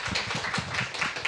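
Audience applause at a book award ceremony and book concert, a brief burst of dense, even clapping from a crowd, with no talk.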